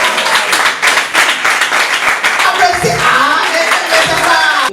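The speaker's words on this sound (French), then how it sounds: "Applaudissez pour ça." Audience clapping at a training workshop for young women, a dense, fairly loud round of applause from a crowd filling the room, with some voices mixed in.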